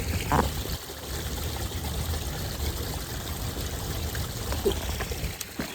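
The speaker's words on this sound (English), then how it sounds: "I am by this dope ass waterfall." An outdoor waterfall pours and splashes in a steady, moderately loud rush that runs continuously, with no talking over it.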